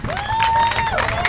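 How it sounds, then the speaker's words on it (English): A crowd at an outdoor clean water rally on Fort Myers Beach claps and cheers in a dense wash of noise, with a whistle-like tone rising and holding briefly through it. "So, give yourselves a round of applause."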